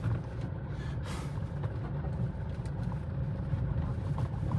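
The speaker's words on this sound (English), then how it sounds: "This is a interesting place to get stuck behind a chicken bus." A chicken bus on a road in El Salvador gives off a steady, loud engine rumble with road noise, and faint hissing bursts of its air brakes rise above it.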